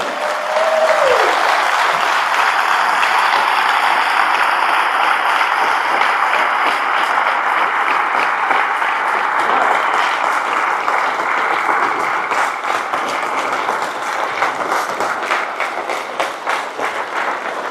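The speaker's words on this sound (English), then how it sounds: "let's give it up for #1, Lucas Knudsen" Loud, sustained crowd applause and cheering fill a high school varsity basketball gym in Orono at Chanhassen as starting players are introduced, a steady dense roar of clapping that carries on for many seconds.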